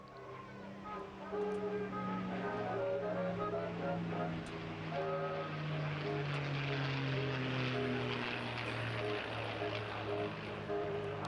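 A Merlin-powered P-51 Mustang flies a display at the Bournemouth Air Festival, its steady droning propeller engine sustained and fairly loud, with a slowly shifting pitch as it passes, a faint voice underneath.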